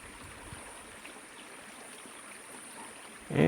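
A canyon stream near an old miners' cabin flows with a steady, soft rushing trickle, constant and fairly close, with a brief louder rustle at the very end.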